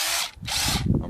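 A Ridgid GEN5X impact driver strains against a lug nut, whirring in two short close bursts with a brief pause between them.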